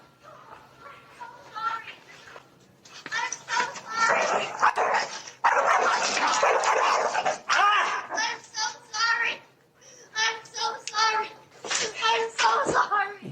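A dog barks repeatedly in a video played in a courtroom during a dog-bite dispute, its sharp barks mixed with voices and commotion.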